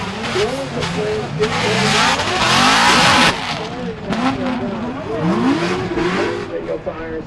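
A Formula Drift race car at an Atlanta Top 16 event drifts past with a loud, high-revving engine that swells and falls, with tire squeal and the pops of the car throwing flames, while a commentator talks over it.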